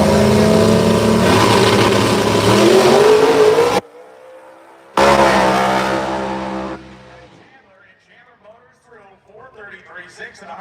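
A Pro Mod drag race car launches at Bradenton Motorsports Park, its engine roaring loud and close through a rising high-revving run, then cutting off briefly before another surge that fades into distance while an announcer talks.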